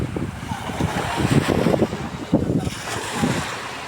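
Sea waves at Calubcub Bay in Batangas wash and surge nearby in uneven swells, mixed with gusty wind buffeting the microphone.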